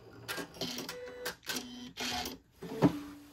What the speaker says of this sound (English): Now I'm gonna twist that and just sew straight off the edge.